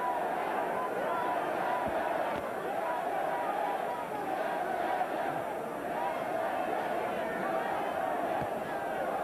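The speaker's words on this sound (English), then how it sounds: "Polish crowd chanting in Polish on the upper deck" Polish boxing crowd on the upper deck at a heavyweight fight, a steady roar of massed voices that sounds more like continuous crowd noise than distinct chanting.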